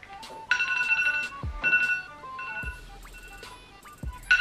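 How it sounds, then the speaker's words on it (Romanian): A phone alarm ringing in a bedroom in the morning: loud repeated bursts of a bright electronic ringtone separated by short pauses, with soft low thumps between them. "Urăsc alarma asta."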